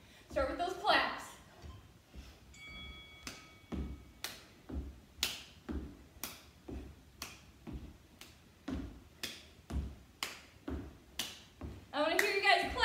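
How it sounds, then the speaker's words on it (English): Sharp hand claps repeat in a steady rhythm during a home workout, fairly faint and spaced about every half second, with a voice talking near the start and end. "I wanna hear you guys clapping."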